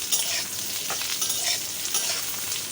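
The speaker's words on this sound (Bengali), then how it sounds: "এইবার ভালো করে ঝিঙেগুলো ভেজে নেব" Ridge gourd pieces fry in a pan after cumin tempering, a dense, steady sizzle with occasional stirring scrapes, close and continuous with no voices.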